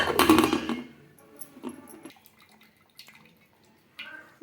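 Water drained off boiled chana dal splashes out in a brief burst, then trails into scattered drips and trickles, quiet and close, with a small final splash near the end and no voices.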